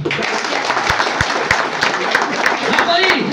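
Loud, sustained applause and clapping from a crowd at a Grovision Ecocare company event honoring a Gold Rank achiever, with voices mixed into the dense clatter throughout.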